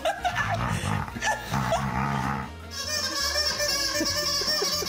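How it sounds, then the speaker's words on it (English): A noisy pet dog at home barks and yips in loud, close bursts, with growly and whimpering tones mixed in; a person's voice may be faintly present. "Tell me you have a noisy dog without telling me you have a noisy dog."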